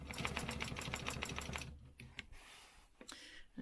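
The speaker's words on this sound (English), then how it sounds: "I am going to stitch this line that's just around the outside" A sewing machine rattles rapidly and evenly as it stitches a line around the outside edge of fabric, close and steady before stopping, followed by a few light clicks and handling sounds.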